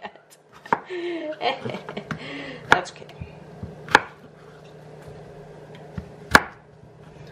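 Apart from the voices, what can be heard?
chopping zucchini with a knife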